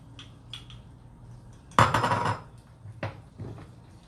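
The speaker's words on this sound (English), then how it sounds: "I'm going to now throw in the mushrooms" Mushrooms tossed into a pan of thickening sauce, a sharp clattering clank of metal cookware followed by a brief rustle and a few lighter knocks, close and alone without talk.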